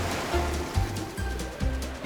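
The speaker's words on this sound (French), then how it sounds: "Oh non, une grosse houle arrive." Ocean waves in a cartoon, a steady rushing surf with a low rhythmic surge repeating about every half second, loud and continuous, with no talk.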